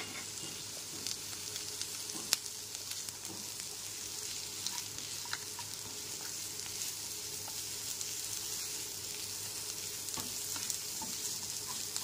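Vegetables frying in a pan over low to medium flame, a soft continuous sizzle with a few faint stirring ticks, quiet and steady.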